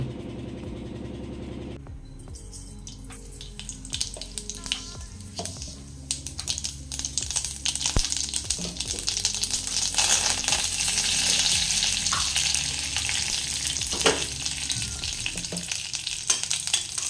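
Tempering for chutney sizzles and crackles in a hot pan, a continuous frying hiss dotted with sharp pops and occasional metallic clinks of a spoon. It is near and moderately loud and builds in intensity after the first few seconds.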